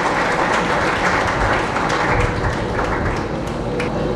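Loud, sustained applause from a church congregation at a Feast of St. Francis of Assisi celebration in Lahore, dense clapping filling the whole stretch without pause.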